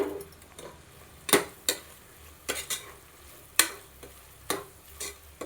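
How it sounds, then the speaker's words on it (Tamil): Goat meat coated in garam masala, curry masala and coriander powder cooks in oil, with a soft sizzle running beneath sharp, intermittent clanks of a spoon scraping and stirring the pan. "இதெல்லாம் நல்லா எண்ணெயிலே கிண்டி விடணும். நல்லா எண்ணெயிலே கறி வேகுது பாருங்கள்."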